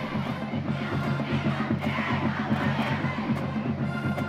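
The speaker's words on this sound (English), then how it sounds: "good crowd, good support from the Mustang student body" A high school football crowd, with the Mustang student body in the stands, keeps up a steady, moderately loud roar of cheering and chatter at a Memorial HS game, with no single standout shouts.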